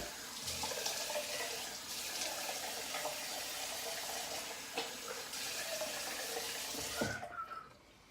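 A tap runs steadily into a sink for a long rinse during a straight-razor head shave: a continuous close, hissing splash of water that briefly changes with small splashes, then cuts off near the end.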